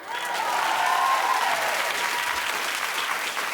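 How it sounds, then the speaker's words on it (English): A television studio audience claps steadily for a few seconds, dense and even, with faint voices mixed in. "Keep clapping for Rosario."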